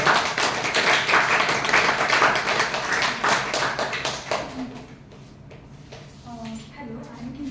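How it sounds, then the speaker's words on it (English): Small Toastmasters club audience applauding a newly elected member, brisk clapping from a modest group that is strong at first, thins out after about four seconds, and gives way to a voice speaking. "Please give her a big round of applause."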